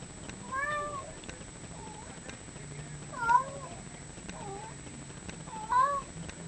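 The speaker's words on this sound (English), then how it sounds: "Can you hear my cat meowing?" A cat meows three times at a steady pace, clear and close, over a faint low hum with no talking.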